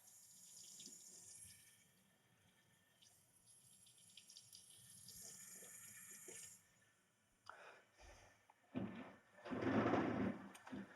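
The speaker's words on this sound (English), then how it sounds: "So all the flow of the water just goes from your fingertips to the elbows." A tap runs steadily as hands are rinsed during a surgical scrub before entering an operating room, a soft hiss of flowing water that fades out, then returns louder in short splashy bursts near the end.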